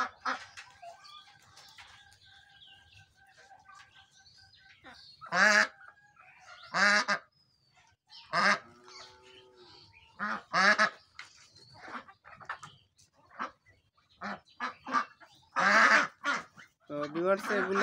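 Beijing and Peking ducks on a duck farm in Madhaiya, Comilla, honk and quack in loud repeated bursts, with several birds calling close by and someone talking between the calls.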